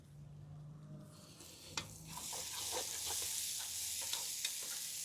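Finely chopped onion hits hot oil with fried garlic for a dhaba-style lasooni methi masala, and a soft background turns into a loud, steady sizzle broken by scraping stirs and clinks of the spoon.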